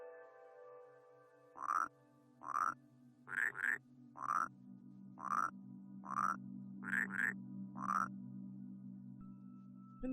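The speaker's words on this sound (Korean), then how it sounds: "개구리가 하는 걸 따라하는 거 아니야?" Frog croaks from the video game Rusty Lake Paradise, about nine short rising calls, some in quick pairs, sounding clear and close over a soft sustained musical drone.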